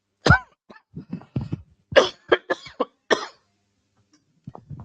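Repeated coughing, a sharp first cough followed by a cluster of shorter hacking coughs, close and loud, with a brief pause before a final soft bout.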